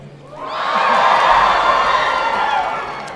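A crowd at a Pasifika student union lū'au cheers, whoops and shouts, swelling quickly into a loud, sustained roar that holds for a couple of seconds before fading.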